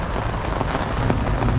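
Steady rain falls on a yard long bean garden during harvest, a dense continuous patter close by with no voices.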